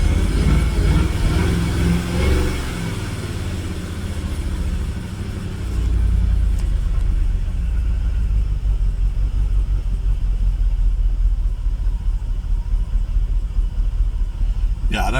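A Jaguar XKR X100 supercharged engine idles with a low rumble, the revs sagging, then a blip of throttle lifts it into a steady, louder droning run; a person talks over the early part.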